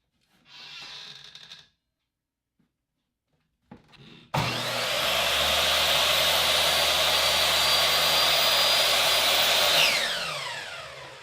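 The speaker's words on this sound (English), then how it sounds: "I need to cut 4 pieces out of these pickets to a rough dimension of 21 1/4 inches." Wooden fence pickets being cut to length with a power saw. A couple of short bursts come first, then a loud, close, sustained whine runs for about six seconds before winding down.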